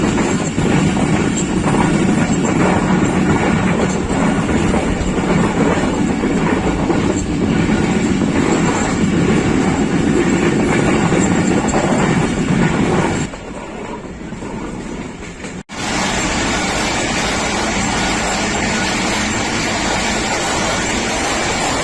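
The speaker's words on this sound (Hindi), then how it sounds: "सिहाला रेलवे स्टेशन को स्लो स्पीड में स्पीड कर रही है पाकिस्तान एक्सप्रेस।" Pakistan Express train rolling slowly through Sihala railway station in Pakistan, a loud, steady rumble of rail cars with clickety-clack wheels sustained for most of the stretch, then briefly quieter before the noise resumes.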